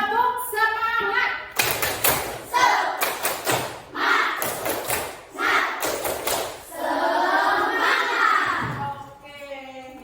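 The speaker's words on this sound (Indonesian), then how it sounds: "kita tepuk semangat dulu" Rhythmic group clapping in a classroom as pupils perform a counted clap chant together with their teacher, loud, patterned bursts mixed with children's voices chanting along.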